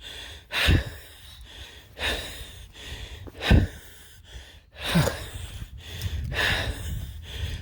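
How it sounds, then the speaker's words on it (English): Heavy, labored breathing of a person on a slow walk, loud and close, with several strong gasping inhales and exhales spaced irregularly over steady low outdoor rumble. "This is my breathing when I'm walking."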